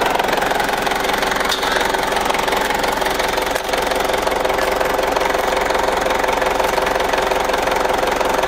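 A Ford Ranger engine runs steadily near idle, rough and labouring as it struggles to gain revs, with a continuous knocking mechanical drone heard up close and no talk.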